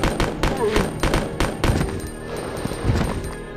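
Gunfire in the video game Resident Evil Code Veronica X, a series of sharp shots in quick bursts, some rapid like automatic fire, loud and close across several seconds.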